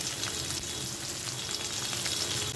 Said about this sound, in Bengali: পটলগুলোকে ভেজে নেব।